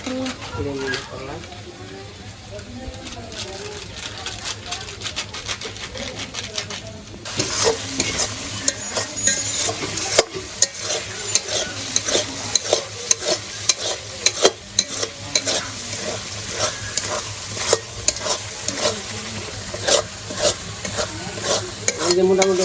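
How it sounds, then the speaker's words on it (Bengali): Meat and biryani masala fry in a pan in a village kitchen, giving a steady close sizzle with repeated scraping stir strokes that grow louder partway through. Pigeons coo faintly and a voice speaks now and then. "মশলাটা কষিয়ে নিলাম"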